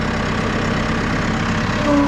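Compact Massey Ferguson 2E.60 hydrostatic utility tractor, a 57.3 horsepower engine, running at a steady, even idle-like drone, close and continuous with no talking over it.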